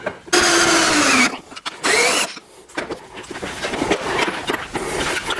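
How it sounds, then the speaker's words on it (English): A power drill whines loudly in two bursts, a long one then a shorter one, with rising pitch, followed by clattering handling noise. "I'm going to drill a hole here as well."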